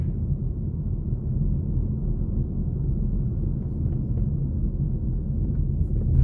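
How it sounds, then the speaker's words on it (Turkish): Steady low roar of strong stormy wind buffeting the microphone outdoors in New Jersey, constant and heavy, with no other sounds standing out. "Ve aşırı bir rüzgar var"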